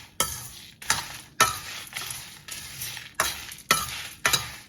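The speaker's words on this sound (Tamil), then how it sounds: "இன்னும் கொஞ்ச நேரம் நாங்க வறுக்க போறோம்" Spices dry roasting in a pan for rasam powder, with repeated scraping stirs every second or so over a light, dry sizzle, close and clear with no talk.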